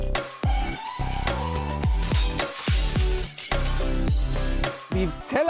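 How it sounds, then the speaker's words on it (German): Glasses and plates fall off a table inside a moving car, and a string of loud crashes and shattering impacts rings out alongside engine sound. "und die Gläser sind runtergeflogen"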